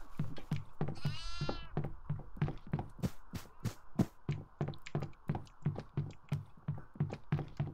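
Goats on a farm level of the horror video game Devour bleat in a quavering call near the start, followed by a steady run of sharp, evenly spaced thumps or footsteps across the whole stretch.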